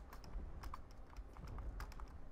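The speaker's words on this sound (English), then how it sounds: "I should actually get a silent keyboard or something, because this is, like, way too damn loud" Rapid, clicky computer keyboard typing during an Overwatch livestream skirmish, irregular bursts of sharp keystrokes close to the microphone over a low background hum.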